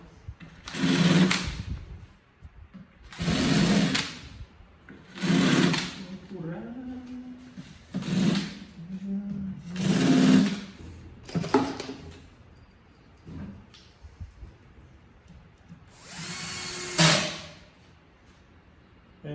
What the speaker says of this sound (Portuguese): Então eu vou fazer esse furo do meio e eu já consigo tirar os grampos.